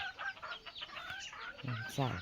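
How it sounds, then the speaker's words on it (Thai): Chickens clucking nearby, with rising cackles toward the end and a faint voice mixed in. "มีเป็ดมีไก่เลี้ยง"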